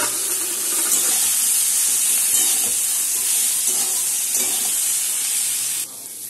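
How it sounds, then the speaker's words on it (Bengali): Fried vegetables hit a hot pan with turmeric and chili powder for a vegetarian mung dal dish, setting off a loud, constant sizzling hiss that holds steady and eases slightly at the end. "তার মধ্যে দিয়ে দেবো আমি ভেজে রাখা"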